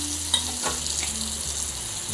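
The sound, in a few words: spices sizzling in oil for dal tempering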